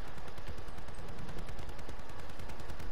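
Dense, rapid gunfire rattles nonstop in a Black Ops 4 multiplayer match, with shotguns among the weapons firing, loud and close throughout.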